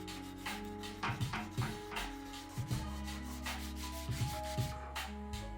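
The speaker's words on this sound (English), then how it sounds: "After the body filler dried, I did the final sanding of the surface." Rhythmic hand sanding strokes on dried body filler over steel rub back and forth at close range, quiet and unhurried, with short pauses between passes.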